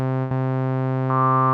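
A Roland JD-08 digital synthesizer holds a steady, buzzy tone with rich harmonics on one pitch, breaks briefly, then brightens as a filter opens near the end.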